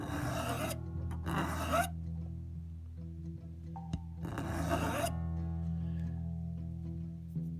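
Hand file cutting a taper into the flange entry point of a hand-laid model railway turnout rail, three separate bursts of harsh close rasping strokes with quiet ringing gaps between them.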